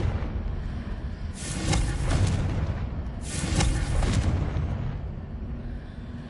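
Two heavy, rumbling blasts from the Confringo blasting curse in the video game Hogwarts Legacy, each a loud explosive burst with a long roaring tail, the second following about two seconds after the first, with no talk.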